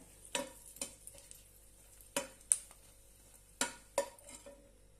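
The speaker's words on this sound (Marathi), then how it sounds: "यामध्ये तीन लाल मिरच्या घालूया त्या आपण छानपैकी फ्राय करून घेऊया" Three red chillies fry in hot oil for a tomato bharta, a quiet sizzle broken by a few sharp clinks and scrapes of a spoon stirring in the pan.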